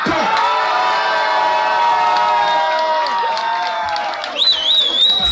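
A large crowd cheers and whoops loudly and continuously, with shouting voices and applause filling the space, swelling briefly near the end.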